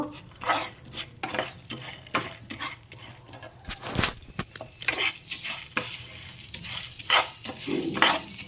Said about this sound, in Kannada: ಕಡಲೆಬೇಳೆ ಹಾಕ್ತಾಯಿದ್ದೀನಿ ಅದು ಅಷ್ಟೇ ಕೆಂಪಿಗೆ ನೀವು ಹುರ್ಕೊಳ್ಬೇಕು